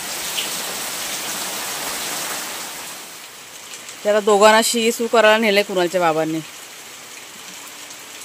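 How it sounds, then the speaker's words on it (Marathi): Steady patter of rain falling on surfaces, with a person speaking briefly partway through. "हे बघा खूप पावसाचं वातावरण झालंय"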